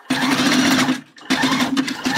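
A domestic sewing machine stitches elastic onto a handmade bra, two close bursts of rapid, even mechanical chatter with a short pause between them.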